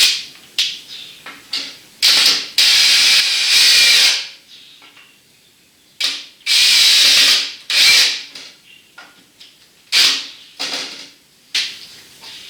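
Repeated bursts of a loud power drill whine drilling through solid hardwood, in short and long spurts, close by, with quiet pauses between each run.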